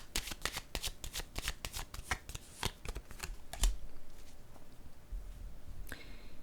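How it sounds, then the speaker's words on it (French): Cards drawn and laid down during a tarot-style card reading, a dense run of quick papery shuffling snaps and flicks close up, then quieter rustles with a single soft card placement near the end. "je vais déposer une carte sur la peur"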